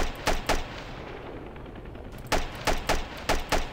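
Video game ARMA gunfire: two sharp rifle shots, a pause, then five quick loud shots in close succession, with no voices.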